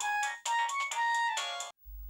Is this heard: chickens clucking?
no